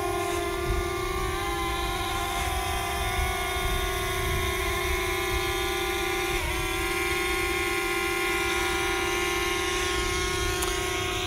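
A DJI Mavic Air foldable drone in flame red lifting off and hovering close by, a loud steady high whine of spinning propellers with layered tonal hum that dips briefly midway, no talk.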